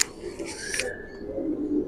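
Giribaz pigeons, a mix of silver and old-breed birds in a loft, coo briefly and softly up close, with a short bright rustle near the start.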